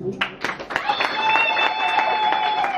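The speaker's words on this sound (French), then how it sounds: "On applaudit pour lui." Applause from a gathered crowd at a civil wedding ceremony in Yaoundé, a burst of clapping that begins sharply and settles into a steady, moderately close patter, with a voice speaking over it.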